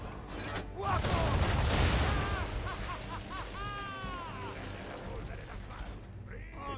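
Cannon volley booms out in the Assassin's Creed 3 video game: a broad, loud burst of blasts around the second mark, then a rumbling, crackling tail with whistling and clattering game effects.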